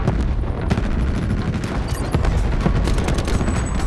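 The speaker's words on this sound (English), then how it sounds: "I think someone's got some sort of chopper gun or something." Automatic chopper gun fire in Black Ops 4 on Nuketown: loud, dense bursts of rapid gunshots that run nearly continuously, with booming impacts layered into the barrage.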